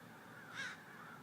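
One short caw from a crow sounds in the distance, faint over a low, steady outdoor background.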